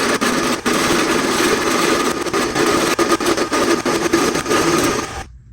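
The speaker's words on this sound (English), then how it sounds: "I'm gonna get these other 3 holes drilled out" Power drill with a 9/16 bit boring out holes in a brake rotor during a wheel hub conversion, a loud continuous grinding whir with rattling bursts that cuts off abruptly at the end.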